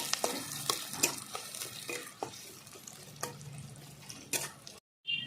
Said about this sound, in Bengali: পেঁয়াজটাকে আমি লাল করে ভেজে নেব প্রথমে